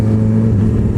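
A car engine drones loud and close as the car passes, a sustained low growl with a slight rise in revs across a brief moment.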